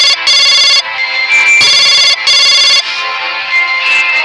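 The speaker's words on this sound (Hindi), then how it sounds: "तभी इनका टेलीफोन बजने लगता है।" A telephone rings in a cartoon horror story, a loud electronic ringtone repeating in bursts with short pauses between them, alone without talk.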